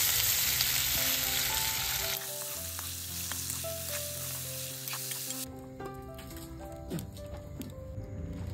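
Onion and turmeric with potatoes frying in a home kitchen pan, giving a steady near sizzle with occasional stirring scrapes and clinks, and a background tone dropping away partway through.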